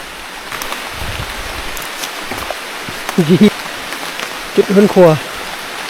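Steady rain falls at night in deep forest, a continuous broadband hiss throughout, with someone speaking briefly over it near the middle and end.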